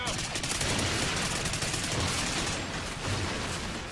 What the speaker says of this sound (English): There's just like explosives and shit going off continually.